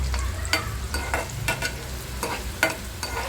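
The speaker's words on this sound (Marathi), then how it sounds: "मी आता कांदा आणि तेल भाजायला टाकलेलं आहे" Chopped onion roasts in oil for a drumstick curry while a spoon stirs it, making a close, continuous sizzle broken by regular scraping strokes against the pan.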